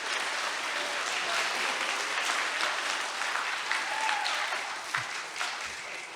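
An audience at a 2022 school closing ceremony in Louisville breaks into applause, a dense, sustained patter of many hands that stays loud throughout and tapers slightly near the end.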